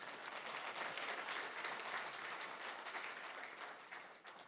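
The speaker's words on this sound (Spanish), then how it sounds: "Vamos a darle un aplauso por" A church congregation gives a warm round of applause, thick and continuous crowd clapping at moderate distance, tapering off slightly at the very end.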